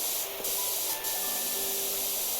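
A pressure washer in the Powerwash Simulator 2 video game sprays water onto a generator, a steady loud hissing jet that runs continuously with faint tonal machine whines underneath.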